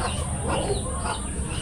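Chickens cluck and chatter close by as they come home at dusk, a busy cluster of short calls over a steady background hiss.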